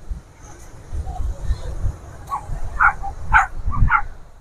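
Dogs barking and yipping in short bursts partway through, fairly close, over a low rumbling background with some talk.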